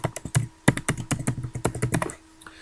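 Rapid keystrokes on a computer keyboard while renaming a file, a close, irregular burst of clicks and taps that tapers off near the end.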